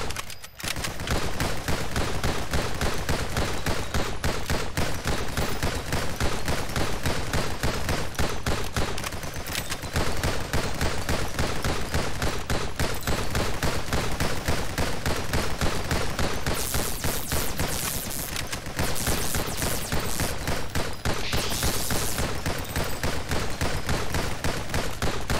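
Rapid, sustained gunfire from the roguelike shooter NIMRODS, fired with an enlarged "fat bullets" upgrade. It runs as a loud, unbroken stream of shots for the whole stretch, dense and relentless, with no voices.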